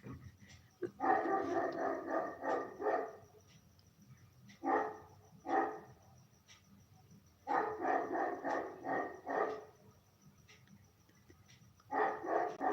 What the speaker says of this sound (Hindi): लग रहा शेखर भैया की बात सुन रहा है कुत्ता, इसीलिए भौंकने लगता है